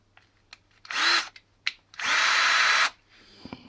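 A Bosch cordless 18 V drill-driver, either a GSB 18-2-Li Plus or a GSR 1800 Li, runs in two loud bursts of high motor whine, a shorter one and then a longer one, separated by clicks and handling noises.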